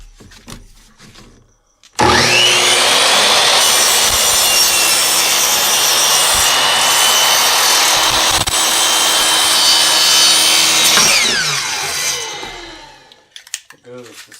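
Wood for a sign is cut with a power saw in a single long, steady cut of about ten seconds that starts abruptly, stays loud and close throughout, and winds down at the end.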